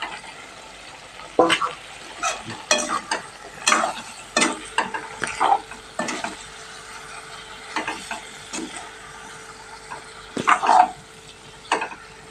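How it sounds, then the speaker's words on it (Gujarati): Whole fried eggplants tipped into a frying pan and stirred while cooking into a curry, giving scattered scraping and clattering spoon strokes with light sizzling between them, close and fairly loud, without talk. "હવે આપણે રીંગણા નાખી દઈએ ફ્રાય કરેલા।"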